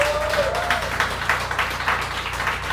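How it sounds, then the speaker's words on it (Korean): Applause from the audience at a live concert fan event: steady, dense clapping throughout, fairly loud and close, with some voices mixed in. "박수 주세요"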